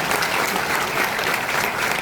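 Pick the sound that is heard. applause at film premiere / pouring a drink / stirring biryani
applause at film premiere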